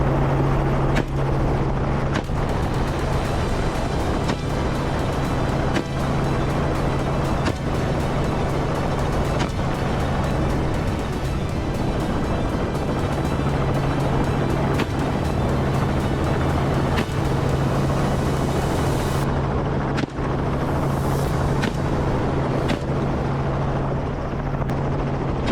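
A helicopter roars steadily with chopping blades and a loud engine, a continuous close, heavy drone with rhythmic blade pulses running for the whole stretch without any talking.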